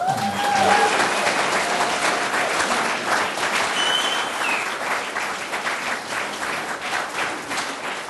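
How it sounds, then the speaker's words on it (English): Audience applause fills a university club hall after student storytellers from a writing program perform at an evening of comedy and storytelling, steady dense clapping for about eight seconds with a few brief whistles, gradually thinning. "A big round of applause for the MPW students"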